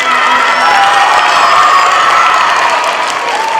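A school assembly crowd applauding and cheering for January award winners, a dense, loud, continuous roar of clapping with children's shouts and whoops throughout.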